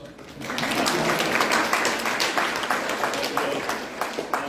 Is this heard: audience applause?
yes